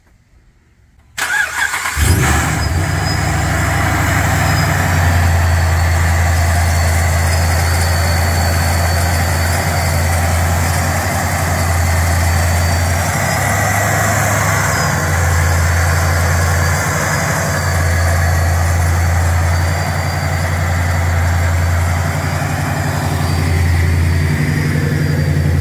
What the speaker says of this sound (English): we're gonna give you a little startup so you can hear the supercharger, hear the truck